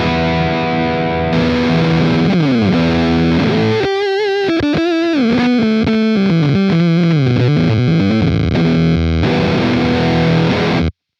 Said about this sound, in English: It's basically a very harsh digital fuzz, but it sounds really cool in guitar